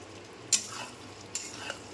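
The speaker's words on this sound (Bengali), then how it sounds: "এবার আলুর সাথে মশলাটাকে সুন্দর করে কষাবো।" Fried potatoes and spices are stirred together in a pan. A faint, steady sizzle runs beneath two or three short, sharp scrapes of a utensil against the metal.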